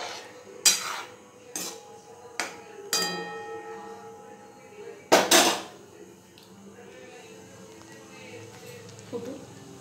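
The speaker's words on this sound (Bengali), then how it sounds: "খাসির মাংসটা একটু গরম করে নিচ্ছি" Goat meat curry is reheated in a pot, with several loud metallic clanks of a spoon and lid against the pot followed by quieter handling and light clinks.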